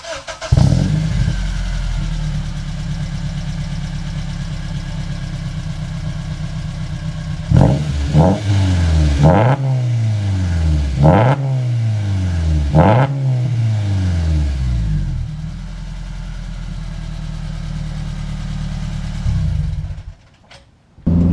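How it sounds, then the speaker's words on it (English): Honda Element with an aftermarket exhaust fitted with a Vibrant resonator, 1320 header and high-flow cat, idling loudly before a series of sharp throttle blips rise and fall, then settling back to a steady idle that cuts off at the end. "So let me show y'all what it sounds like. It actually sounds pretty sick."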